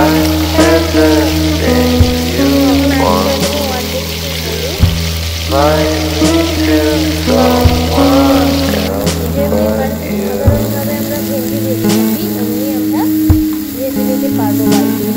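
Okra for a sour curry fries in a pan with salt added. A loud, steady sizzle carries throughout, with occasional stirring knocks and a voice talking over it.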